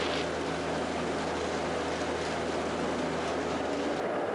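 Raptor prototype aircraft engine running steadily on the ground after warm-up, a continuous droning roar with a low hum that holds even throughout, close and loud, with no speech.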